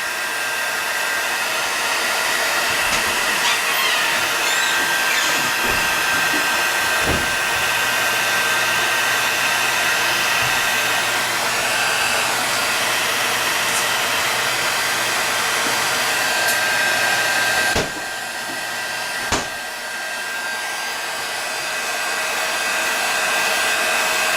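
A hair dryer blows steadily on a crafted magnifying glass project, a loud continuous whir running nearly the whole time with a brief drop near the end, no one talking.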